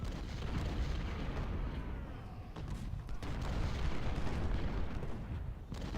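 Artillery fire in the Ultimate General: Civil War battle game at Fredericksburg: repeated rumbling booms and blasts roll over a continuous low battle din, moderately loud with no talking.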